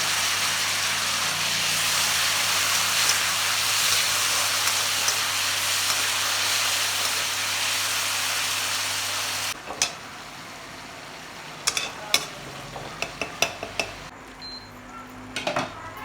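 Four to five kilos of large chopped tomatoes hit hot oil for a Chhattisgarhi amchur curd curry, giving a loud, steady sizzle that cuts off sharply partway through, leaving quieter scattered clinks and scrapes of a utensil.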